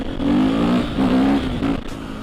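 A supermoto motorcycle riding along a road, its engine droning loudly and steadily up close with a few rising revs between brief dips, no voices over it.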